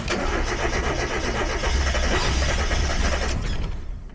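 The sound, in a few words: car engine starting after sensor wiring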